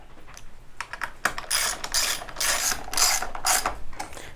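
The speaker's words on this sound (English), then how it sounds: "So now we're going to tighten all of them down." A ratchet tightening the fairing bolts on a Kawasaki Ninja 650 motorcycle gives off rapid, close clicking in several quick bursts, with short pauses between strokes and no talking.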